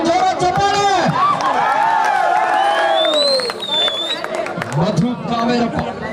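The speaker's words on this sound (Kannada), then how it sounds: "ಪ್ರೇಕ್ಷಕರ ಬಳಿ ಒಂದು ಜೋರ ಚಪ್ಪಾಳೆ." Spectators at a tense match between a Karnataka State Police team and the HMT Colony boys cheer and clap amid crowd noise, with an announcer's voice and shouts over the top.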